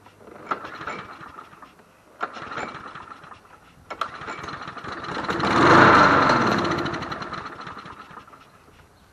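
A small gasoline engine from an old Troy-Bilt mower or Homelite grass trimmer sputters and catches in a few rough bursts, then runs unevenly, swelling louder before fading back, heard close with mechanical rattling.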